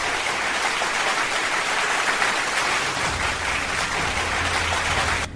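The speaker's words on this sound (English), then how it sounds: "Round of applause, please." A round of applause rises as a dense, steady wash of clapping from a crowd, continuous and fairly loud for about five seconds before cutting off.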